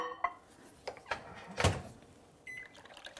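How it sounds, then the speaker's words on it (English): A few quiet clicks and clunks of a kitchen microwave door being opened and shut, with a sharper latch snap in the middle and a faint beep-like tone near the end. "I'm just gonna get that in the microwave."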